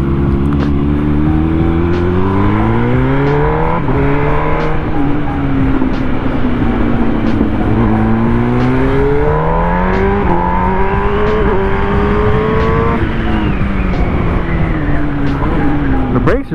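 An MV Agusta Brutale 1000 motorcycle engine pulls loudly and continuously while being ridden, its pitch climbing and dropping through several gear changes over heavy wind noise.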